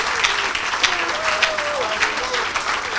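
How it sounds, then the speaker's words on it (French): An audience at a religious gathering applauds in a dense, sustained wash of clapping that fills the whole moment. A voice calls out faintly over the clapping. "Acclame."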